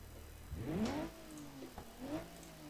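A BMW 4 Series engine in the game BeamNG revs up in short rising sweeps, two quick bursts that fall back to a low idle, fairly faint with no talk.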